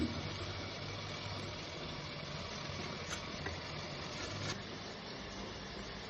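A kitchen mixer grinder churns a masala of spices, green chillies and black pepper for biryani, producing a steady, unbroken motor whir that stays fairly faint and even throughout, with no voices.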